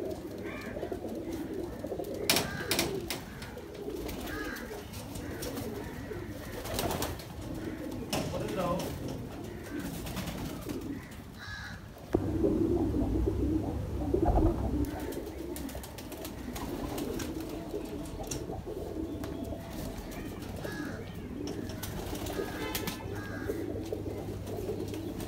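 Golden pigeons kept for breeding coo in soft, low, repeated phrases close by, mixed with rustling and handling noises and someone speaking over parts of it.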